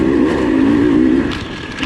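A 2021 KTM 300 XCW two-stroke dirt bike ridden on a rough, hammered track, its engine droning loud and close with a steady buzzing tone that eases slightly toward the end.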